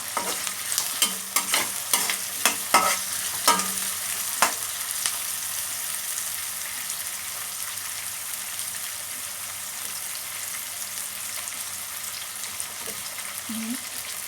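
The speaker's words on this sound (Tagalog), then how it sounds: "Kailangan natin maluto kunti yung ating white onion." White onion frying in a pan, a steady soft sizzle with a few sharp clinks and stirring taps early on, heard alone at close range.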